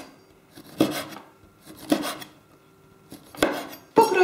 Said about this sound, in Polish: Pokroimy kiełbaskę na plasterki, takie niezbyt grube, troszeczkę po skosie.